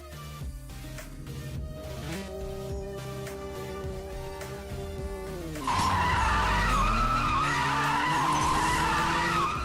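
Lamborghini launching in the CSR2 racing game, engine tones rising over several seconds before a loud tire-squealing skid takes over and holds.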